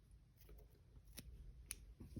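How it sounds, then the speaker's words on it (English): Scissors snip through white yarn during crocheting, giving a few faint, close, crisp cuts over a quiet background. "also cut off the white yarn because I'm not using it"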